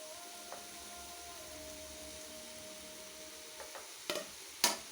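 Capsicum, green chilli and cabbage frying with spices in a pan give a faint, steady sizzle, with a few soft stirring clicks near the end.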